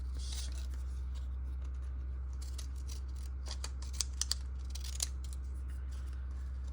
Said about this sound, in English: Let me get my white scissors.